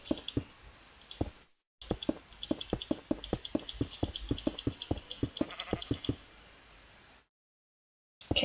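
Repeated bleating from a Minecraft sheep, a rapid run of clicky, nasal cries with short gaps, then silence.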